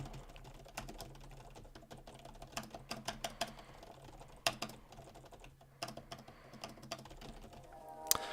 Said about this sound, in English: Now I'm going to go ahead and type a little bit faster as if I was mashing the keyboard